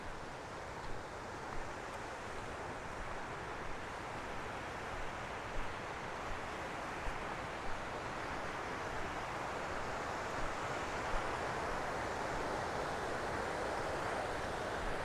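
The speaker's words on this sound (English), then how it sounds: "Creek has picked up some water and some force." A mountain creek on a trail in Montana's Madison Range rushes with a steady, broad, close roar of flowing water, unbroken for the whole stretch with faint bumps from footsteps.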